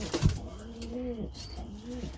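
Pet pigeons in a loft at dusk give two close, soft, rolling coos, one after the other, against a quiet background.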